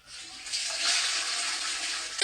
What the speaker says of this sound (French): Allez-y, tirez la chasse.